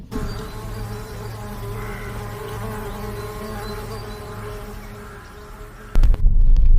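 Honeybees buzz at a new apiary site outdoors: a dense, steady droning hum from many insects close by, continuous throughout, ending with a few sharp knocks or handling bumps near the end.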